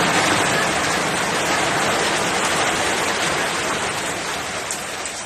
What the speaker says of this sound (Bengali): আমাদের এদিকে প্রচুর বৃষ্টি হয়, প্রচুর বৃষ্টি